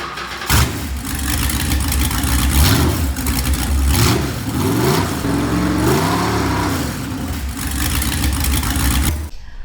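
A 1973 Ford Mustang Mach 1, unstarted for years, cranks, catches and revs loudly, its engine note rising and falling in several surges before cutting off abruptly, close and alone.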